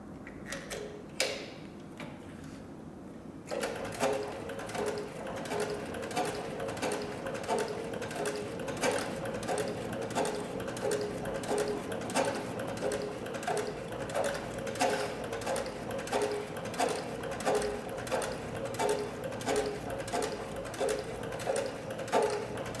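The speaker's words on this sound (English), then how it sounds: "we're going to switch to 4 layers of approximately 8 to 10 ounce tooling leather" A new sewing machine drives through four layers of thick tooling leather, a few hand-turned clicks first, then a long steady run of rhythmic, closely spaced needle thumps under a mechanical whir, no voices heard.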